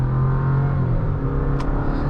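A 2023 Chevy Colorado Z71 pickup spinning its tires as the engine revs hard, a loud, close, sustained roar with a brief squeal of tires partway through.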